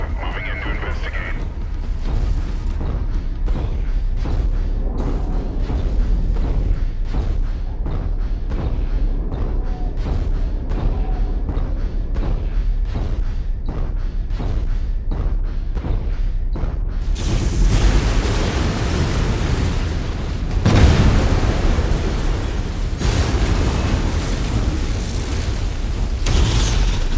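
An airstrike lands in the MechWarrior 5 game as a dense, rapid run of booming blasts and crackling detonations, then swells into a heavier, brighter, sustained barrage of explosions.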